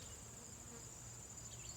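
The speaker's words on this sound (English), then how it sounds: "Just look at the bees on these things" Bees at sunflowers in a community garden, a faint continuous insect buzz with a steady high whine, distant and unbroken for under two seconds.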